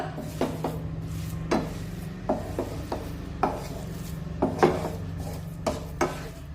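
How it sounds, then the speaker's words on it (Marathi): A fresh coconut vadi mixture is stirred in a pan with a spatula, giving irregular close scrapes and knocks against the pan over a low steady hum, without speech. "आता आपल्याला हे मिश्रण एकसारखं असं हलून घेत राहायचं आहे जोपर्यंत याचा गोळा बनून तयार होत नाही तोपर्यंत"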